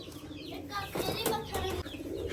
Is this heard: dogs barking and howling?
no